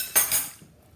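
Metal cutlery clinks in a kitchen, two quick close bright chinks that ring briefly and fade into quiet.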